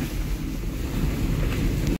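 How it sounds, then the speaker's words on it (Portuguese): Rainwater runoff rushes down a flooded rural road after heavy rain, a loud, steady broadband roar of flowing water mixed with wind buffeting the microphone, with no speech. "Olha, a enxurrada tá descendo."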